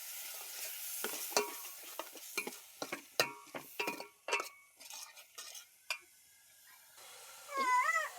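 A spoon repeatedly scrapes and knocks against a pan as ground masala fries for kebab, with irregular clinks over a faint sizzle and a cat meowing briefly near the end.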